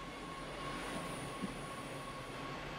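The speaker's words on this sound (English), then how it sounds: "a bit of flange from the train passing the points" Train in the Train Sim World rapid transit simulator rolling over points, a steady rail rumble with a faint flange squeal over a constant tonal hum, fairly quiet with a brief bump midway.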